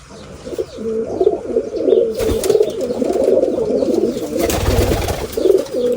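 Pigeons in a cage coo in overlapping, continuous low warbling, close and fairly loud, with occasional rustling and wing-like bursts in the background.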